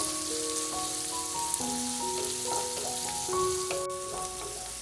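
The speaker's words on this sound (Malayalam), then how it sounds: "സവാളയും ചേർത്ത് കൊടുത്തതിന് ശേഷം വീണ്ടും നല്ല രീതിയിൽ ഇതൊന്ന് വഴറ്റി കൊടുക്കണം" Onion sautéing in a pan for Kerala cabbage thoran, a steady soft sizzle with light stirring throughout, close and continuous, with faint musical tones underneath.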